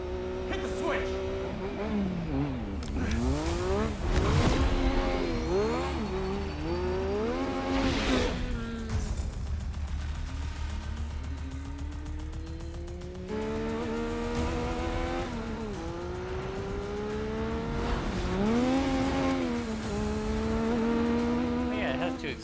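A car engine in the video game Ghostwire Tokyo revs and climbs through its gears repeatedly, loud and continuous, with tire squeal and rising, falling pitch sweeps. Voices occasionally sit beneath the engine.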